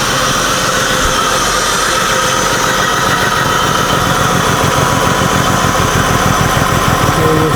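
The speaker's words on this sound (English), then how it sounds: "those headers have a little more noise to them than the factory headers" A BMW E46 328i idling with new aftermarket exhaust headers, a steady, close, fairly loud rumble with a rhythmic low pulse that stays even throughout, no voices.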